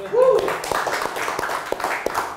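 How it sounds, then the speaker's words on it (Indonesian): Audience clapping at a shooting sports event, the ISSF World Cup Rifle in Senayan, with scattered claps under a broadband wash and a voice speaking over it. "kasih tepuk tangan dulu"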